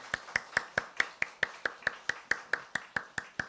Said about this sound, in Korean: 두 분 우리 여수에 사시는데 우리 박수로 환영하도록 하겠습니다